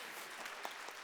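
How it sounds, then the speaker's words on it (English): A moderate patter of hands clapping at a youth school assembly at a food forum. The burst is brief, with a couple of sharper claps in it. "I think this deserves a round of applause already"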